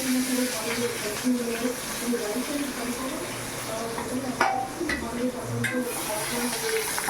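Onions frying in a pan with boiled mushrooms and whole spices, a steady, moderate sizzle with occasional clinks of a utensil, heard close while someone talks over it.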